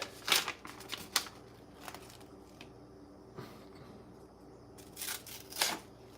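A sharp knife blade slices through a sheet of paper, giving several quick, crisp rasping swipes close by, with quieter pauses between the cuts.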